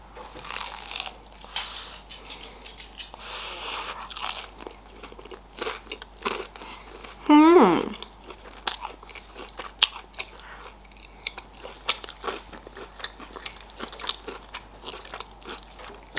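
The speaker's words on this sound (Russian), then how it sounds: "Это просто всего лишь такие вот корн-дожки." Crunchy homemade corn dogs, sausages baked in dough, being bitten and chewed up close, with repeated crisp crunches and one louder bite partway through, against a quiet room.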